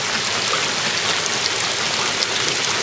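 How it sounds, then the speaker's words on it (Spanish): A small secondary waterfall in a nativity scene model gives a steady, broad splashing rush of flowing water, close and constant throughout with no pauses. "Esta de hoy es una cascada pequeñita, secundaria, que en cualquier Belén se puede lucir"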